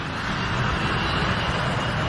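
An airliner taking off from the main runway at Linate makes a steady, loud, broad roar of jet engines that fills the whole stretch with no break.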